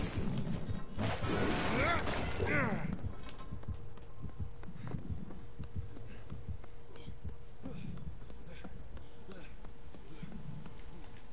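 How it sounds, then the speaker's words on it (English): Dull rhythmic heartbeat thumps from Dead by Daylight, pulsing at a steady pace under a low hum, with a louder burst of overlapping voices and noise near the start before the throbbing continues alone. "Just the heartbeat."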